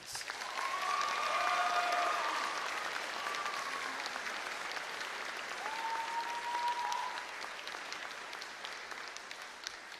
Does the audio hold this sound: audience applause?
yes